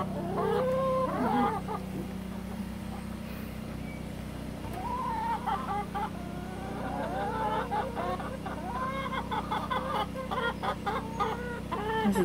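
A flock of adult hens clucks and squawks loudly in repeated busy bursts close by, over a steady low background hum, with a voice speaking briefly among them.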